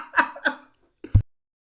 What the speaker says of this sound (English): I was coughing up almonds